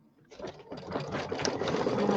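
An embroidery sewing machine starts up and stitches a Christmas tree bench buddy design with a matching green thread, a rapid, steady mechanical whirring and clatter that builds quickly and runs continuously up close.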